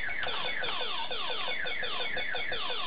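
Galaforce played on an Acorn Electron home computer gives off a steady stream of repeating falling electronic bleeps, dense and fairly loud, like rapid laser zaps, with no voices over them.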